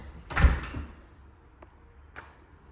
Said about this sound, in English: So I shut the door.